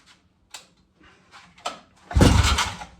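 A few faint mechanical clicks and pulls, then a short sputtering burst as a 1954 Evinrude outboard motor briefly coughs without catching.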